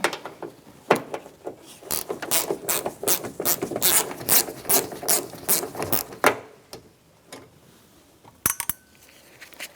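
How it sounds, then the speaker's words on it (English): A 7mm socket ratchet removes vent window screws on a Ford F-150, producing a quick series of close, crisp clicking pawl strokes that thin out toward the end. "So now I'm going to remove the two mounting screws for this vent window. It's a 7mm socket."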